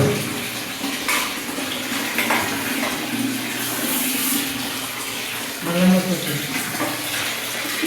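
Water splashes and pours steadily across a bathroom floor during cleaning, with occasional louder sloshes and faint scrubbing, close by and continuous.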